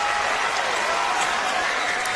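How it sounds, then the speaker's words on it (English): A basketball crowd applauds in a fourth quarter, a continuous wash of clapping and cheering that fills the arena at even loudness. "How alive is this crowd"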